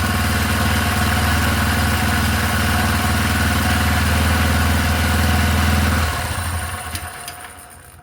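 A four-stroke engine runs at a loud, steady idle during its first start-up while the throttle cable is being sorted out, then stalls and winds down near the end with no talking.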